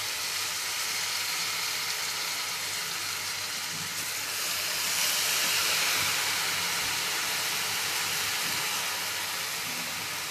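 Steady, loud sizzling hiss as leafy shepu greens go into a pan of fried chillies, a dense frying crackle that continues evenly with no talking.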